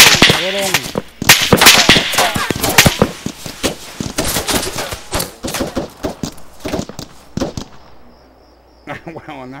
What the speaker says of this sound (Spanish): Taking fire! 4! Fall back!